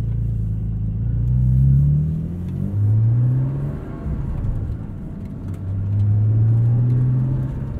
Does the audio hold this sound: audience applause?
no